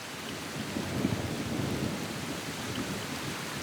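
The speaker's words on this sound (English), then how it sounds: "For most of the year, torrential downpours are a daily event." Heavy tropical rain on Colombia's coast, a dense steady hiss of downpour with a low rolling thunder rumble building and fading across the middle, with no voices.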